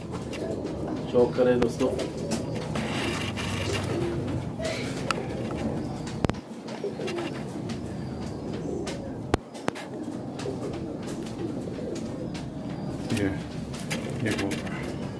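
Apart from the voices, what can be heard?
pigeons cooing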